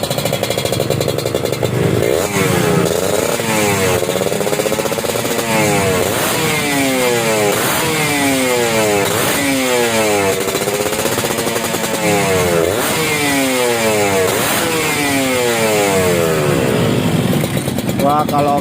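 A loud two-stroke Kawasaki Ninja motorcycle engine with a rebored exhaust revving repeatedly, rising and falling in quick throttle blips, crackling and close.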